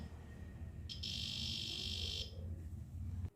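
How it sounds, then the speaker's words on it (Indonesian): A buzzer on a load-cell height and weight measuring device sounds when its infrared sensor detects an object: a steady, thin, high-pitched tone lasting just over a second above a low background hum. "ketika ada benda yang masuk nih, terdeteksi, nah buzzer akan berbunyi"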